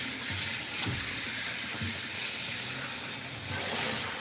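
Steady running water rinses a Himalayan cat during a bath, a continuous close hiss and splash with faint shifts in flow and no talking.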